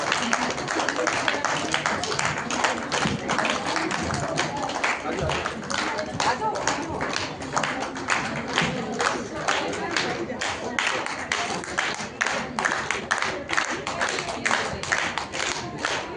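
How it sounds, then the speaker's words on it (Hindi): An audience at the Amrita Haat 2025 event gives continuous, dense applause for a 30-member women's police patrol team. The clapping holds steady for the full stretch, with voices faintly mixed in beneath it. "तो तालियां भी तो उस हिसाब से होनी चाहिए"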